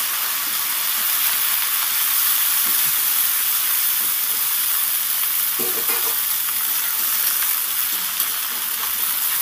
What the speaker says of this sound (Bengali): সুন্দর করে নেড়ে চেড়ে ভেজে নিচ্ছি।